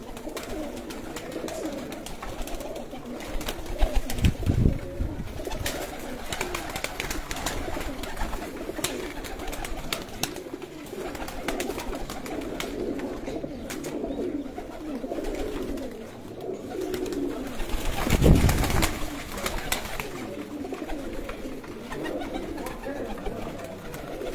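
Breeder pigeons coo repeatedly in a loft, soft throaty rolling calls close by over a busy background, with people talking intermittently.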